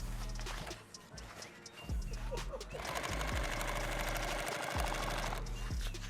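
A sewing machine runs in a workshop during a rifle case build, a steady mechanical whir with rhythmic thumping that speeds into a dense, continuous drone, heard close and loud with voices chatting in the room.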